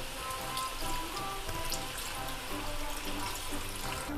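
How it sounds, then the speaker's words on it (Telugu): Water pours steadily into a pot of crab curry, a continuous splashing, bubbling wash with no speech, close by and even in level throughout. "ఇప్పుడు ఏమంటే వాటర్ వేసుకొని మీడియం ఫ్లేమ్లో కుక్ చేసుకోవడమేనండి."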